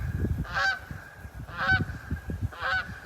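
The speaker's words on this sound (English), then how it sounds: "was gonna say there goes a big flock of geese, but there goes a goose" Single goose honking as it flies past outdoors, three repeated nasal honks spaced about a second apart, moderately near over low rumbling background noise.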